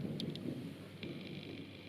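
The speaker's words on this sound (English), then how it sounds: "probably one of the most intense thunderstorms I've seen in a while" Thunder from an intense thunderstorm near Negril, Jamaica, a low continuous rumble with rain-like hiss and a few faint crackles, heard alone without speech.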